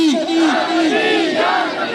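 A large crowd at a Rabi ul Awal torch-bearing procession in Adda Sheikhan, Chiniot chants a slogan in unison. The voices are loud and close, with rising and falling sung lines overlapping throughout.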